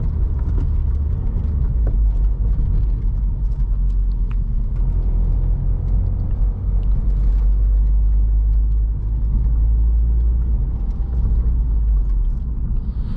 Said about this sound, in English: Being that this is a flat four engine, these cylinders are facing each other.